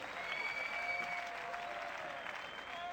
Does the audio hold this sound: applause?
yes